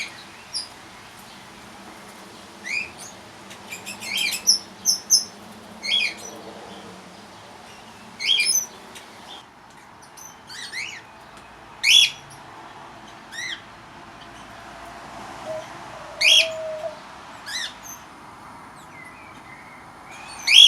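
Red-rumped parrot chicks in a nest hollow give repeated high, thin, rasping calls in short bursts, spaced irregularly over a quiet background, close and fairly clear, with no talking.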